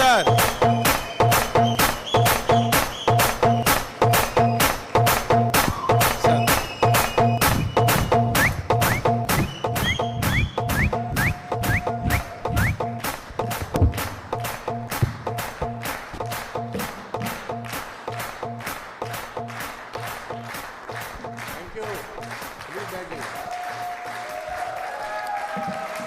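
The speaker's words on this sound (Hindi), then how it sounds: "सीटियां, तालियां जोरदार सोनू सर के लिए" An audience at a motivational talk by speaker Sonu Sharma claps in unison, a loud, evenly spaced beat that keeps a steady rhythm for a long stretch and slowly loosens toward the end.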